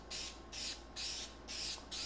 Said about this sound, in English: I also spray a test pattern somewhere safe before I spray